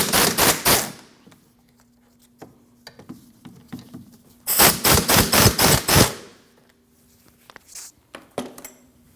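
An impact wrench rattles loudly in two close bursts, the second longer, while it removes the two 17mm brake bracket bolts from the knuckle on the rear of a 2012-2016 Honda CR-V, with quieter clinks of tools between them.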